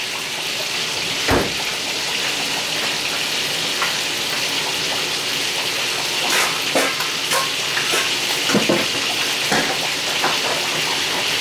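Cube steak fries in hot grease with a steady, dense sizzle that runs throughout, broken by a few sharp clinks and scrapes of stirring, with no talking.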